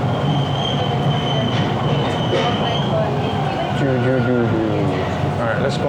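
A late-night subway train arriving at a station, with loud continuous rumbling, squealing wheels and rhythmic clatter throughout. A station announcement plays over the noise.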